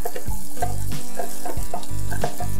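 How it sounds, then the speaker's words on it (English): Chopped raw potatoes tossed into a hot frying pan burst into a loud, close sizzle, with sharp rhythmic scraping and stirring strokes repeating through the clip and no talk. "And now I'm going to throw in my chopped potatoes."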